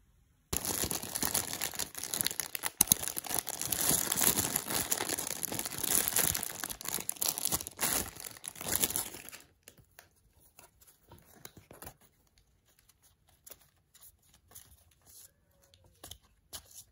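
Crinkly plastic packaging holding BTS and Stray Kids photocards is opened, with loud continuous crinkling and rustling for several seconds, then quiet faint handling sounds.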